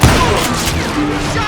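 Short burst of gunfire in the Western shooter Call of Juarez: Gunslinger, a loud opening shot followed by overlapping reports and ringing echoes.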